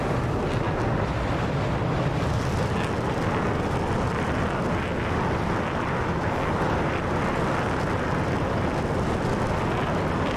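Jet engine roaring at full afterburner in a DCS World flight sim, a steady, loud, broadband rush that holds unbroken and dense throughout with no pauses.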